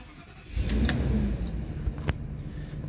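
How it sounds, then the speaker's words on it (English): A Thor ACE 27-foot motorhome with a V10 engine cranks and catches, settling quickly into a low, steady idle rumble. A couple of small clicks and jangles, as from keys, sound close by. "and start the vehicle"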